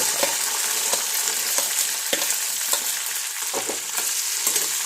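Star fruit pieces fry gently in sesame oil for a pickle, with a continuous crackling sizzle and regular soft clicks and scrapes as the mixture is stirred.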